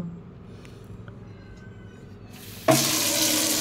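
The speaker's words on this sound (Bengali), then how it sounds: "এবার আমি ওই জল নিচ্ছি বালতিতে" Tap water gushes into a bucket, starting abruptly after quiet household background and running steadily and loudly to the end.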